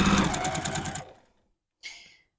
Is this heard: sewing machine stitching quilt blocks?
yes